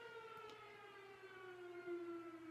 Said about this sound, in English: that's the firehouse doing its siren.